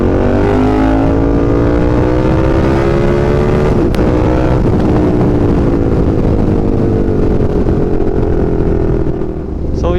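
Steady road traffic on a weekday highway between Tanza and Nasugbu, with loud engine drone and rising and falling tones from passing vehicles, continuous throughout and no voices.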